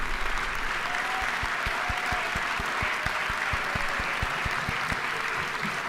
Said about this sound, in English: please just have a hand clap to this beautiful soul watching us do